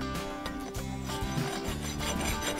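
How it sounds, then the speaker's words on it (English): A rasp scrapes across a horse's hoof on a Western ranch in quick, rhythmic rough strokes, close and steady, over a faint background hum. "we're gonna race the nail heads. Keep the rasp flat on the hoof."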